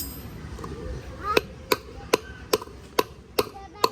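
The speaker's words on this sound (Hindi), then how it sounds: "और इसको ठोक के बिठा देंगे खांचे" Sharp metallic hammer strikes seat a wheel bearing into an electric scooter wheel, seven evenly spaced close knocks over a low background hum.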